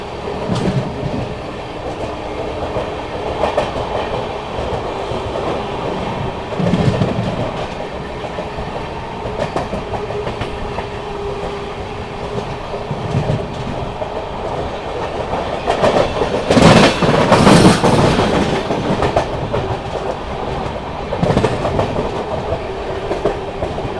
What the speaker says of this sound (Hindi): चले यहाँ पर टूंडला जंक्शन स्किप करने जा रही है अपनी विक्रमशिला एक्सप्रेस।